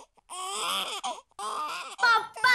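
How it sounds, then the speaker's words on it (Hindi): A baby cries in several close, wailing bursts separated by short pauses, the last cries rising sharper and louder. "ये बच्चे के रोने की आवाज कहाँ से आ रही है?"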